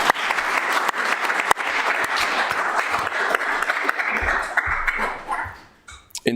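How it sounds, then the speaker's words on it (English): Audience applause in a city council meeting room, honoring local small businesses; brisk, close clapping with sharp individual claps standing out, tapering off and fading to near silence in the final second. "Let's give a round of applause for those small businesses."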